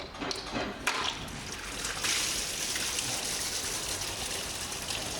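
Water trickles and splashes steadily in a garage during a timing belt job on an Audi A4, a continuous close wash of running water with a brief louder gush partway through.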